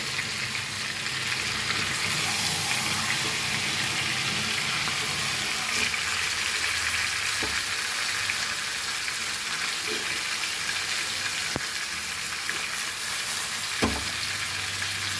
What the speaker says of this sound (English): And fry for a few minutes, then we will turn this.